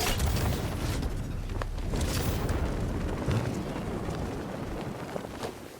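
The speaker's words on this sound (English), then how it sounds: "I can use the power winch to trigger a controlled explosion." A deep, rumbling vehicle explosion in Batman: Arkham Knight with crackling debris rolls on continuously, a dense low roar that stays loud throughout with occasional sharper bursts.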